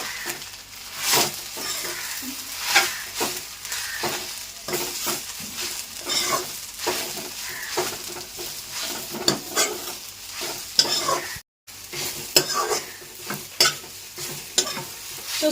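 Gongura leaves and dried tamarind frying in a pan, with a soft steady sizzle under repeated scraping strokes of a spatula stirring them, close and fairly quiet.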